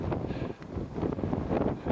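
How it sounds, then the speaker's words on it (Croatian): Strong east wind gusting across an open outdoor setting on a long-distance pedal journey, a continuous loud rushing roar with microphone buffeting that swells and dips throughout. "Puše ludo, još jače nego što je puhao sa sjevera."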